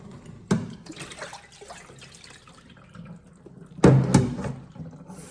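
Water splashes as soft cabbage leaves are rinsed for kimchi, with two louder bursts of pouring or splashing over a quieter running trickle, close by and with no talking.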